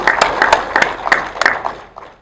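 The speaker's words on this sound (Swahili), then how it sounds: "Kwa hiyo naomba tuwapigie makofi sana." An audience at a Tanzanian government meeting on the transport and roads sector gives a short, close burst of clapping, with sharp claps in an uneven rhythm that thins out and fades at the end.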